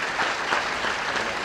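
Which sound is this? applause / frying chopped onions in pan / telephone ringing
applause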